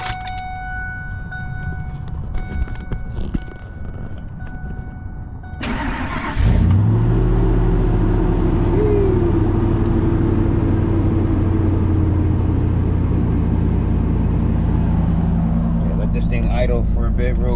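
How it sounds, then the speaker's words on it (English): A Toyota Camry engine cranks and fires on a cold start, then settles into a steady, close idle that runs on alone. Keys rattle and a voice talks before the start. "Let's do a cold start."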